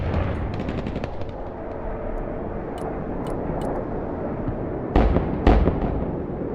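Rapid gunfire rattles over a dense rumbling battle in the Broken Arrow video game, followed by two heavy booming explosions near the end, loud and close.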